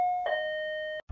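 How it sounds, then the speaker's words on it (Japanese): Intercom doorbell in the game Sakura School Simulator: a single clean electronic two-tone chime at a house door, short and clear, ending abruptly. "インターホン押すか"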